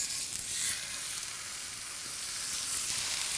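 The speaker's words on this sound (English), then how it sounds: "Okay, time to start browning the meat." Seasoned pot roast meat browning in a hot, lightly oiled pan, giving a steady, close sizzle and crackle that fills the whole stretch with no talking.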